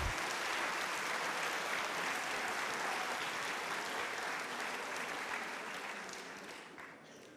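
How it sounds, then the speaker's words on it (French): A hall full of people gives sustained, even applause at a graduation ceremony for apprentices at the CFA Métropole Nice Côte d'Azur. The clapping stays loud and uniform for several seconds, then begins to taper off near the end. "Vous pouvez vous applaudir"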